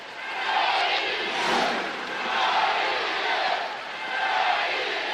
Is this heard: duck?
no